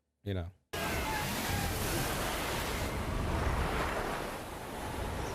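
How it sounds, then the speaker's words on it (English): Big ocean waves crashing against a ship at sea, heard as a loud, continuous roar of surf and rushing water with wind noise, preceded by a brief voice at the very start. "Some crazy ass freaking waves. You know that's gonna be doing a number on that ship."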